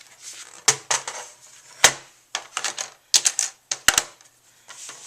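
Paper pages are scored on a scoreboard, making irregular sharp taps and short scraping strokes close by, with brief pauses between bursts.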